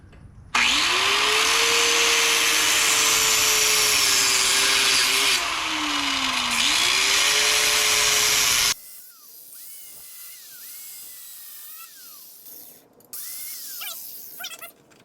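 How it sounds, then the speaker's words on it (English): A loud, close power tool whines steadily at a wavering pitch while cutting exhaust tubing on a 1986 Mazda B2000, then stops abruptly and is followed by quieter, intermittent mechanical tones. "This exhaust tubing stuff cuts really easily, as you can imagine."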